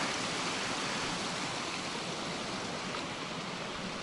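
A creek at a Utah hiking campsite runs with a steady, even rush of flowing water, continuous and fairly soft throughout, with no voices over it.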